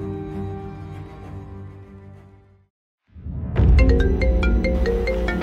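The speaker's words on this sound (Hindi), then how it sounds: "KBM कंपनी के ओनर का कॉल आ रहा है।" An incoming call sets a phone ringtone going after background music fades to a brief silence. The melody rings loud and close with repeating bright notes.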